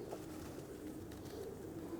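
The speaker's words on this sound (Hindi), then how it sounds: "ग्रे परों वाले कबूतर हैं" Grey-feathered pigeons coo in a loft, a soft low murmur that runs steadily through the whole stretch, faint and continuous with no talk over it.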